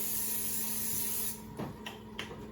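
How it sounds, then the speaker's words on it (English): A steady aerosol hiss of cooking spray into a pan runs for over a second, then cuts off, followed by a few soft clicks and light clatter nearby. "Gonna put some cooking spray"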